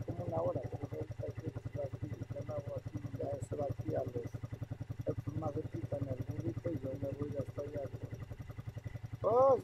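A motorcycle engine throbs with a steady, rhythmic idle at moderate distance and swells louder in the final moment, with faint voices underneath.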